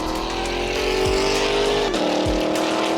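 A 2025 Corvette ZR1 engine roars loudly and steadily, its pitch sliding down, then dropping sharply as it shifts gear.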